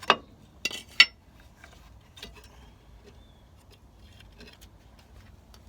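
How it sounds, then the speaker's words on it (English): The handbrake cable spring is unhooked on the rear drum brakes of a Mk2 Ford Focus. Three sharp metallic clinks come close together at the start, then faint light taps and handling noises follow in a quiet garage. "Just pull the spring back, unhook it."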